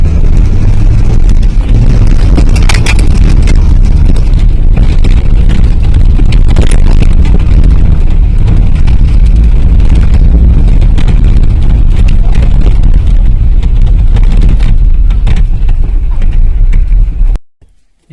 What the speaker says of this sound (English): Rev your motor.